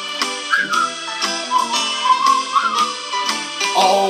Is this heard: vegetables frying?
no